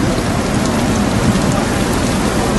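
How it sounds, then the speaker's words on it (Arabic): Heavy rain pours down at Arafah during the Hajj season, a dense, loud, even hiss of drops drumming on surfaces that holds steady throughout, with no voices. "وصل المطر"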